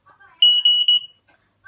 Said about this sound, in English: We have ionisation smoke alarms in our house.